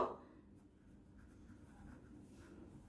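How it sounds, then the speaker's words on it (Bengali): A pen writing an opinion by hand on paper, faint continuous scratching strokes close by after a brief louder bump at the start, with no voices. "তাহলে আমি একটু মতামত লিখি আমার মতো।"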